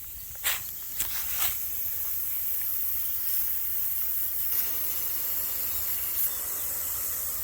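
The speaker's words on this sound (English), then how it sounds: "That sprinkler there is just partially clogged. I can fix that easy enough with a little pick tool." A partially clogged garden sprinkler sprays water in a backyard, a steady, close airy hiss that runs throughout, with a few brief clicks or taps near the start and no talking.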